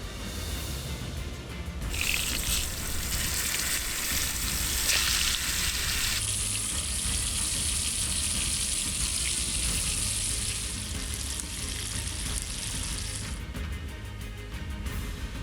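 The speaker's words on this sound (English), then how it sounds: "all we're gonna do is give them a quick fry on each side" Venison back strap frying in bacon grease, a steady broadband sizzle that swells and holds loud for most of the stretch, close by with no talk over it.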